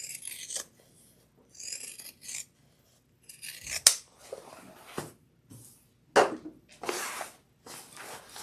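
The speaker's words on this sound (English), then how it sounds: "I'm going to trim this down with my pinking shears." Pinking shears cutting the fabric of a crossbody bag, several separate bursts of crisp, rasping snips with short pauses between them, close and clear.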